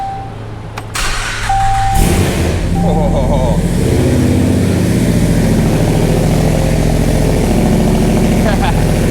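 A Dodge Hellcat swap engine cranks and catches after a couple of seconds, then settles into a loud, steady, deep idle close by, with a brief exclamation from a person at the start.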